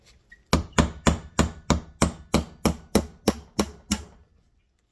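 A hammer strikes a brass punch eleven times in a steady, even rhythm while working on a Honda Integra limited-slip differential, each sharp ringing clink close and loud, then stops.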